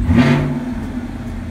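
A Chevrolet Camaro engine runs at idle after several minutes of warm-up, a loud, close, steady low hum with a brief swell at the start that then settles into an even drone.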